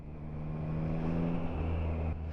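A 2024 Yamaha Tracer 9 GT+ in street mode runs on the throttle at slow speed, giving a steady, close engine hum with a slight shift in pitch partway through.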